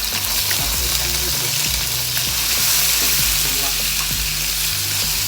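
Seafood hits hot oil in a wok for Thai seafood curry stir-fry, setting off a loud, continuous sizzle with the scrape and clatter of stirring.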